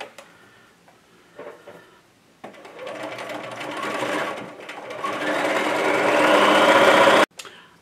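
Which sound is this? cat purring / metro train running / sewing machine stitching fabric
sewing machine stitching fabric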